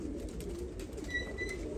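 Modena pigeons coo on a Turkish pigeon farm, low soft throaty calls rolling in a steady murmur close by, with a few faint thin chirps from other birds.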